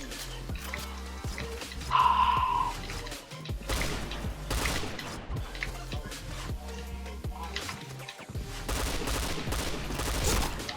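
Inferno series gun in the Point Blank shooting game firing rapid repeated shots in bursts across the clip, sharp and close, with a voice talking intermittently over the gunfire.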